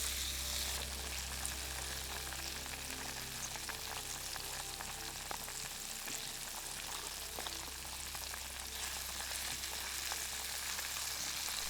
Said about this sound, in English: Doug's heating up the oil and he's battering the fish and we're gonna fry them up